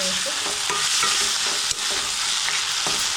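Vegetables for a veg frankie roll filling sauté in a hot pan, a steady close sizzle broken by repeated scrapes and clinks of a spatula stirring throughout, with no talking.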